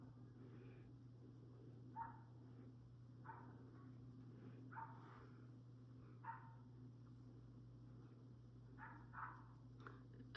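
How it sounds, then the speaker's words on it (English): A dog barks in the distance, a few short faint yaps spaced over the clip above a steady low indoor hum, with no talk. "I think that's their dog too."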